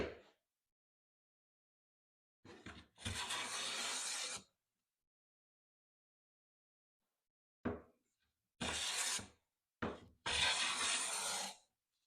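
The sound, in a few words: Veritas smoothing plane taking wood shavings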